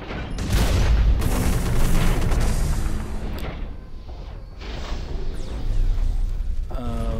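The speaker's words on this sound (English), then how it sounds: "he throws a grenade or something." In the mech shooter Hawken, a grenade blast booms loudly amid heavy, continuous explosive rumble and crashes, with further impacts and whooshes following in a dense battle mix.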